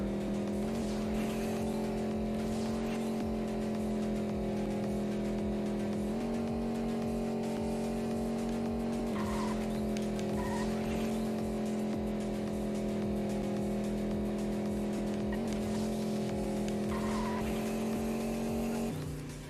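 A race car in a driving video game holds a continuous engine drone through turns. Tire squeal and skidding run over it, with small shifts in pitch as the car corners.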